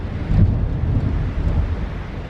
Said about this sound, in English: There is a massive storm outside and it's 9:40 in the morning, which is really unusual.